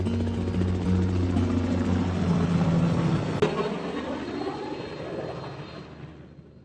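Loaded helicopter idling before a flight to Marma on a jungle-and-islands mission, a steady loud rotor and engine drone with turbine whine, holding throughout and easing down toward the end.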